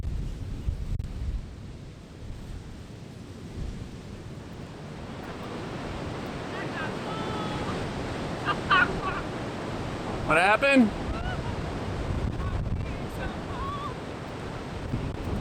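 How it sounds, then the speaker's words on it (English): Rough surf and strong wind at Cannon Beach, Oregon, a steady roaring wash with wind buffeting the microphone throughout, while people talk and shout briefly over it. "Very high winds, rough seas, a chilly 50s degree climate, and frigid water temperatures."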